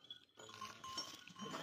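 Goats on a goat farm bleat faintly amid an open outdoor ambience, with no clear talking over them.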